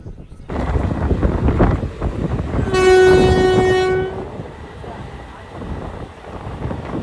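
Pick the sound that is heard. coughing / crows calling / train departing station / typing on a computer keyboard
train departing station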